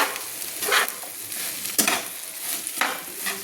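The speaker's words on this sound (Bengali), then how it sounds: "পোস্তটা দিয়েই কিন্তু আলু সজনে ডাঁটা একসঙ্গে আমি মিশিয়ে নিচ্ছি" Potatoes and drumsticks mixed with poppy seed paste in a pan, repeated scraping stirs at an uneven pace over a low sizzle, close and clear, no voices.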